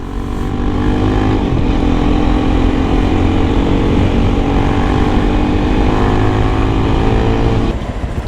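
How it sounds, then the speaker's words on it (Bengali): Loud, steady drone of a sports motorcycle engine running up close, a dense buzzing roar sustained for several seconds that drops off sharply near the end. "আমি তো পারবো না, কারণ এটা স্পোর্টস বাইক"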